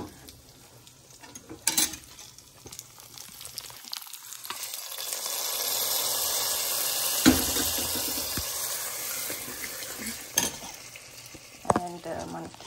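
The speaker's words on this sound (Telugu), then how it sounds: "సో మంచిగా ఎగిపోయింది పోపు." A tempering for moringa leaf dal sizzles in hot oil, starting with soft clicks and spoon taps, then building to a bright, steady hiss that fades back down, with occasional clinks.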